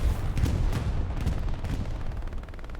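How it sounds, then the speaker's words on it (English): Heavy explosions and gunfire rumble through a Hell Let Loose battle at Carentan, with sharp cracks and booming blasts layered into a loud, dense barrage. "they're running back into the explosion"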